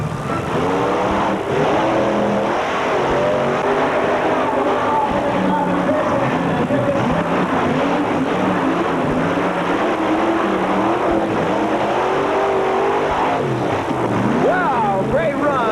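Monster truck engines roaring and revving at a 1988 drag race event in Allentown, loud and continuous with rising engine pitches, under an announcer talking over a PA and crowd noise.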